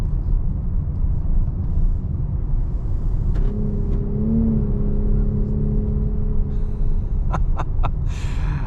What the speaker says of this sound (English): that piped in engine noise is so pronounced